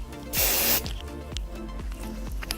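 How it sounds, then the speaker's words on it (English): Hairspray hisses from an aerosol can onto a braided updo in one loud half-second burst, followed by faint soft rustles of hair handling. "A lot of hairspray"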